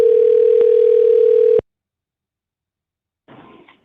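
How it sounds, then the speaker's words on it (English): A telephone line rings for a live call-in show: a loud, steady, slightly pulsing tone lasts about a second and a half, then cuts to silence before a brief patch of faint noise. "Someone is saying it's just ringing."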